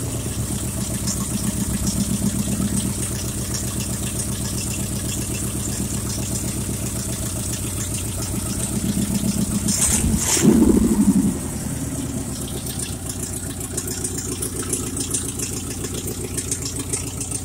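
A Jeep engine idles steadily nearby with an even low rumble, rising briefly to a louder surge about two-thirds of the way through as the idle is adjusted, then settling back to a smooth idle.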